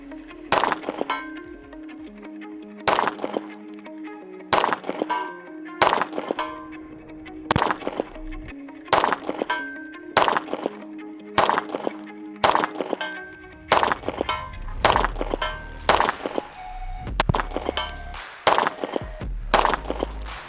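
Pistol shots from a G2P handgun ring steel targets at range, a steady string of sharp loud cracks each followed by a clanging metallic ring, with a short pause midway before a faster run of shots near the end.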